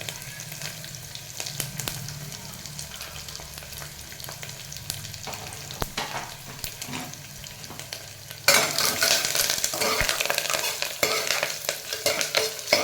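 Cashews, almonds, cumin and pepper fry in a pan with a soft sizzle and scraping stirs, then a fresh addition sets off a sudden louder crackling burst that continues close and lively.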